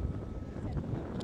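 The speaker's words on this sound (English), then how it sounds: "it's definitely a bit blowy today" Wind buffeting a microphone at Portland Port on a blowy day, a brief low rumbling gust, fairly faint and steady.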